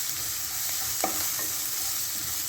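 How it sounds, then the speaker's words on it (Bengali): Garlic and capsicum stirred into frying onions in a pan, a steady close sizzle with a brief spoon scrape near the middle. "এই সময় আমি দিয়ে দেবো একটু রসুন কুচি আর একটুখানি ক্যাপসিকাম, এর সঙ্গে দিয়ে একটু ভালো করে নেড়ে নেবো।"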